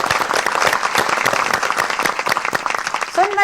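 Sustained applause from a mushaira audience at a poetry contest, dense and loud clapping throughout with a few short tonal sounds near the end.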